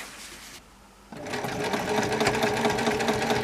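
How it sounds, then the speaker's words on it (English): Domestic sewing machine with a normal presser foot stitching through a quilted apron, quiet at first, then a steady fast whirring run of needle strokes from about one second on, close and continuous with no talk. "So I'm sewing on quilting"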